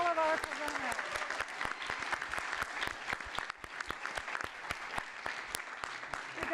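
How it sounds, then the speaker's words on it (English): A theatre audience at the NYU Abu Dhabi Grad Slam 2022 final applauds its presenters with steady, dense clapping that holds loud and even for several seconds. A brief voice is heard at the very start. "let's have a round of applause for all of our presenters"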